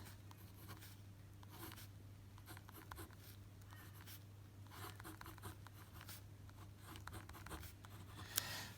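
A marker squeaks and scratches across a board while a butane condensed structural formula is written out in a chemistry lesson, a faint, close run of short strokes and taps over a low steady hum.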